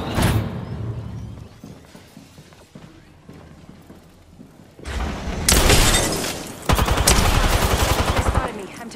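Video game gunfire is quieter at first, then erupts into loud, dense volleys and rapid bursts of shots through the second half, close and sustained.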